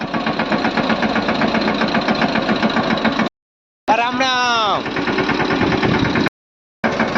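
A Panther tractor's diesel engine runs at a steady idle nearby, a continuous rumbling drone broken by two short gaps, with a brief voice calling out over it midway.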